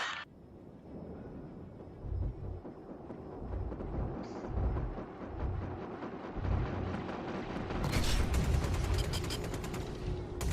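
Gunfire striking an Aegis Avenger ship in the Star Citizen game, rumbling impacts and bursts of fire that build in intensity, with a brief synthetic alert tone near the start.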